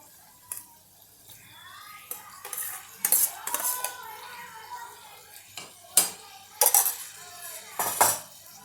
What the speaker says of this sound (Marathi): आणि आता आपण याला छानपैकी हलवून घेऊया